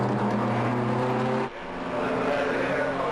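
Pre-1965 historic race cars, including an A40 Farina, racing at Manfield circuit: a loud engine drone with strong harmonic whine that drops sharply midway as a car passes, then resumes as others follow, under commentary.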